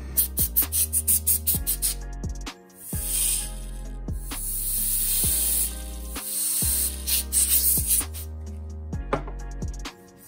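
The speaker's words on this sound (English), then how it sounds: "compressed air." Compressed air blasts in a long, loud hiss while cleaning a puck-shaped computer mouse, heard over rhythmic background music that carries on before and after the spray.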